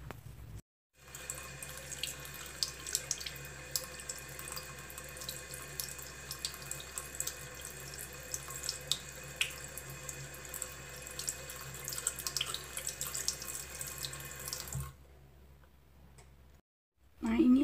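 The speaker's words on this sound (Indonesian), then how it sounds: "kita cuci pakai air yang mengalir" Running tap water rinsing a homemade denture, a steady close splashing stream with faint clicks, stopping briefly partway through before resuming.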